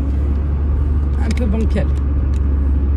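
Car rolling along a road, a steady low tyre and engine rumble from inside the cabin, loud and constant, while a person talks briefly over it.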